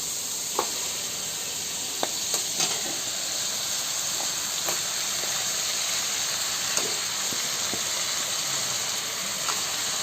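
Desi-style chicken pieces sizzle in hot spiced masala, giving a steady frying hiss broken by scattered small pops and crackles, close and unbroken by talk.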